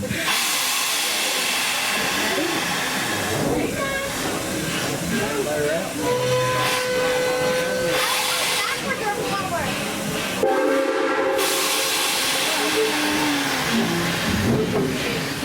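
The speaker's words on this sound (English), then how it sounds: "Let's take the train on up to Fort Boon." Steam locomotive at Tweetsie Railroad pulling away with its whistle sounding in sustained tonal blasts over hissing steam and rolling train noise, with passengers and an announcer talking throughout.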